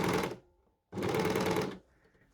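An overlocker (serger) runs in two loud bursts while sewing a T-shirt seam, with a short pause between them where the machine catches on the seam, then a low hum afterward.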